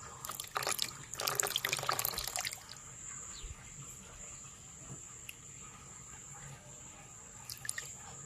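Saline water enriched with milk is poured into a container at a catfish hatchery, splashing for about two seconds before fading, leaving a steady high insect chirr and faint background hum.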